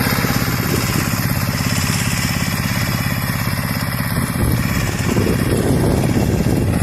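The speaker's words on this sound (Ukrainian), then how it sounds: "Мототрактор, лідер 160-й. 12 кінських сил." Lider 160 walk-behind tractor with a 12-horsepower engine, running a homemade roller, makes a loud, continuous, close chugging drone with a steady rhythmic pulse.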